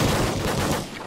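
Dense, continuous video-game gunfire with shotgun blasts fills the moment, loud and busy throughout before easing slightly at the end, with no talk over it.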